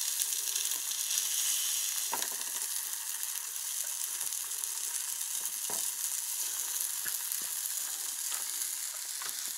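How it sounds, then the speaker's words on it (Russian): Pink salmon frying in a pan, a steady bright sizzle and crackle of oil throughout with occasional small pops and utensil clicks, no speech. "Первый раз жарю рыбу."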